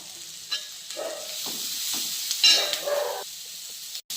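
Onions fry with salt for an egg and green gram thoran while a spoon stirs them in the pan, a quiet crackling sizzle with a few scraping strokes and short bursts, no voices.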